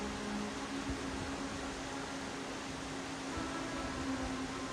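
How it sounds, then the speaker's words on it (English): A drum fan gives off a continuous whining hum over a loud, steady rush of moving air that stays constant throughout, with no voices. "Y'all hear that humming noise? The camera should be picking it up."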